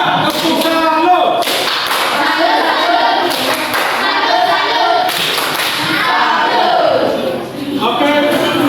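A classroom of students performs the 'tepuk salut' clapping cheer for group 3, with rhythmic claps mixed into loud group chanting that carries on throughout.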